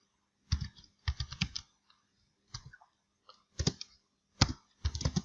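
Names are typed on a computer keyboard while coding Excel VBA, heard as close, crisp bursts of key clicks in short clusters with pauses between them and no speech.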